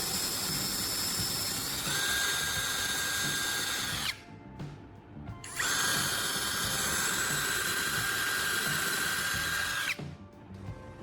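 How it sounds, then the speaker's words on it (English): A power drill bores holes for antenna rods in two sustained high-pitched whining bursts, each a few seconds long, with a short pause between them and a steady close, loud tone. "I'm drilling these holes, making sure they are deep enough to hold the antennas securely."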